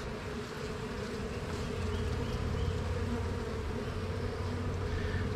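A queenless honeybee colony crying for a new queen gives a dense, steady buzzing hum that swells slightly as it goes on. The hum is close and alone, with no voices.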